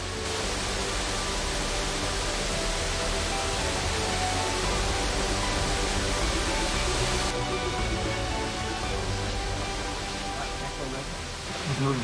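A waterfall in deep mountain forest pours as a curtain over the mouth of a cave, making a loud, steady, broadband roar that holds unbroken for the whole stretch.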